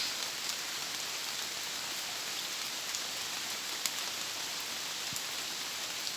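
Steady rain pours down at a rural home, a dense, even hiss of drops on surfaces with occasional sharper drips standing out and no voices.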